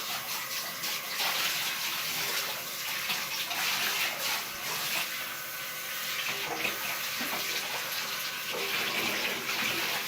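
Running water rinsing hair dye out of hair, a steady continuous splashing gush from a tap or shower lasting the whole stretch, close and moderately loud with no talking.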